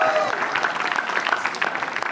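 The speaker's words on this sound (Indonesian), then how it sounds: "Yang cinta orang tua boleh tepuk tangan." Audience at a live Indonesian stand-up comedy competition show applauds briefly, a moderate, fairly even patter of many hands lasting about two seconds, with some crowd noise mixed in.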